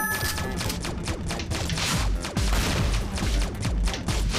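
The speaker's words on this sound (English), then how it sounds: "See the laser, it's called a laser, but it's not like a laser beam, it's just like blue laser" Blue pulse laser weapon in the World Destroyers video game, firing rapid bursts of crackling shots that blend into dense explosive clatter, loud and continuous with no voices.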